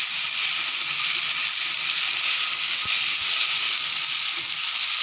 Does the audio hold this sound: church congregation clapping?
no